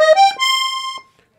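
A Weltmeister Juwel piano accordion with three treble reeds tuned LMM, played on its violin register: a short run of bright, buzzy reed notes stepping upward, then one held note, alone and close.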